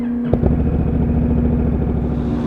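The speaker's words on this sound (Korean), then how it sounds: "모든 차량들이 빠져나가고 이제 오토바이가 하선할 차례인데요." A loud, steady engine drone with a low hum and some clattering as motorcycles roll off a ferry deck in Hokkaido, Japan; no talking.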